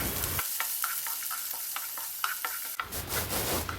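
Chopped onion and peanuts sauté in a pan for a quick aval upma, a steady close sizzle with repeated scraping strokes of a spoon, the frying hiss swelling louder near the end.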